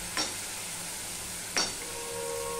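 Ridge gourd paste dropped into a hot pan, giving two brief sizzling bursts over a steady low frying hiss, close by with no talk.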